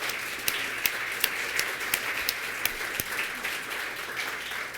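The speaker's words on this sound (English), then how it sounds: "Another round of applause for them." A symposium audience gives a round of applause for three panel presenters, with dense, sustained clapping and a few sharper individual claps standing out.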